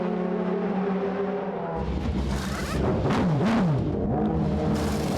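DTM touring race cars from 2007, an Audi among them, scream past at full racing speed, engines loud and rising then swooping down in pitch as they pass close by, with crowd or track noise behind.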